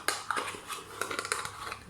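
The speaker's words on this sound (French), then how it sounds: "On remet la cuillère au sale parce qu'elle est sale." A metal spoon is set down among dirty dishes, giving a short run of light clinks and scrapes, fairly faint and close, with no talking.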